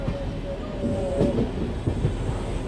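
The Magadh Express passenger train rumbles along the rails near Aligarh Junction, a close, continuous low roar with clattering wheel beats and a brief high squeal.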